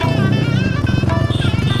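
A motorcycle engine runs loudly and close with a steady throbbing drone while people talk over it.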